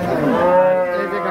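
A Friesian cow at a cattle market lets out one loud, close, drawn-out moo that fills the whole moment, with no talk over it.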